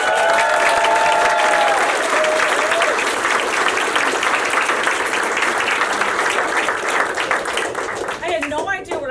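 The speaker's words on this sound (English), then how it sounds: "Let's give her a big round of applause." Loud, sustained applause and clapping from a crowd at a nonprofit's ribbon cutting ceremony, filling the whole stretch and thinning slightly near the end.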